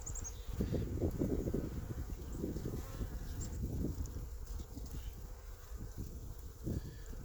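Honeybees in an opened hive, many of them young, produce a soft continuous buzzing hum with brief louder swells, fairly faint and close throughout.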